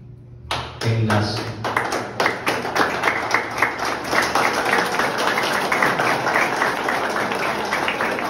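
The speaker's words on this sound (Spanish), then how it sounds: "Ese aplauso es para ustedes y saben para quiénes, para sus papás." An audience breaks into applause at a municipal program event, starting sharply and building into sustained, fairly close clapping with distinct individual claps audible throughout.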